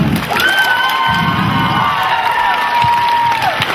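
An audience at an anniversary celebration cheers for children on stage, a steady, loud roar of crowd noise with high whoops and shouts running throughout.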